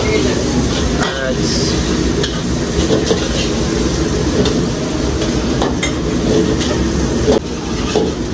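Carrot stirred into onion and ginger in a hot pan for satay pancit canton, a steady close sizzle with scraping stirs and occasional clinks, under a voice and low background rumble throughout.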